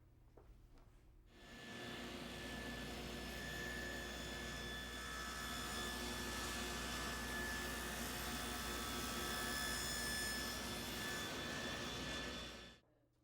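A table saw shaves about a 32nd of an inch off the side of white oak barstool leg stock, giving a loud, steady whirring roar that holds for roughly eleven seconds before cutting off, with no talking.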